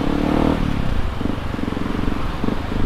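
A Yamaha WR155R motorcycle engine revs on a dyno, a loud buzzing roar with pulsing throttle swells and mechanical clatter, no voices.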